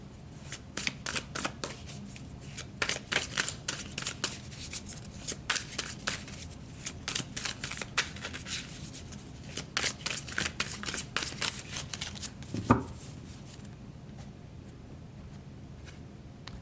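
Tarot cards are shuffled by hand in a series of crisp, rapid riffling bursts with brief pauses between them, close and fairly quiet, with no talking.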